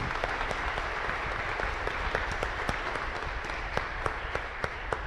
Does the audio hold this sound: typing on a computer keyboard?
no